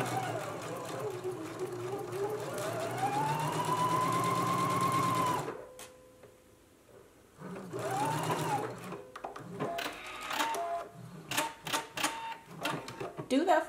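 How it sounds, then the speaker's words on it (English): A sewing machine back stitches and then runs on along a seam of a Simplicity S9326 garment, a steady whirring burst, a short pause, then stop-start stitching close by with someone talking over parts of it. "I'm gonna back stitch and then continue stitching the seam."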